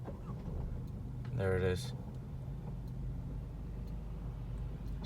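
A 2013-2015 Chevy Malibu engine cranking and catching into a brief start, a short burst of rising engine noise in a quiet setting, with a person speaking briefly right after.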